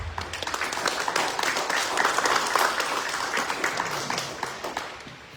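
Audience at a forum on pensions for retired teachers applauding a congressman's arrival, a sustained crowd clapping that swells in the middle and slowly thins toward the end, heard alone without speech.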